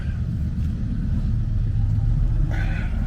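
A supercharged Ford V8 in a Ford GT40 gives a deep, steady low rumble at close range, with a faint brighter whine rising briefly near the end.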